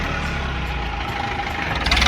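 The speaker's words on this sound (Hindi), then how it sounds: "देखिए ट्रैक्टर यहाँ पे फंस चुका है और ये गन्ने भरे हैं ट्रैक्टर में" A tractor loaded with sugarcane sits stuck at a canal bridge with its engine running, a loud, steady, close diesel rumble that swells slightly toward the end.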